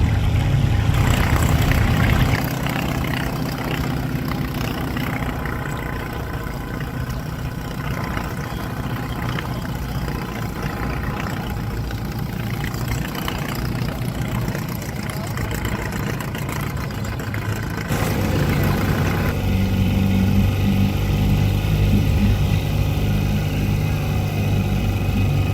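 A 1960 Johnson 5.5 HP outboard motor putters steadily on the water, a continuous near, even drone that holds for the whole stretch and gets a bit louder and rougher toward the end.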